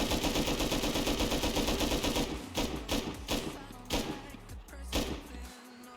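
Explosive bullets hammering a door in the game Rust: a rapid burst of loud gunfire, then several separate heavy blasts spaced about a second apart as the firing slows.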